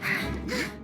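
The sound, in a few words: ducks quacking in cartoon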